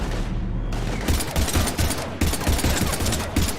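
Heavy gunfire in the video game Mass Effect 3: loud, sustained volleys of shots in close succession. A few brief gaps break the relentless barrage.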